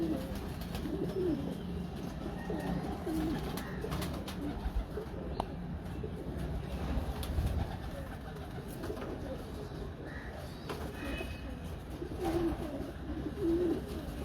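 Breeder pigeons murmur soft, low coos off and on against a faint, steady background hum, fairly distant and quiet.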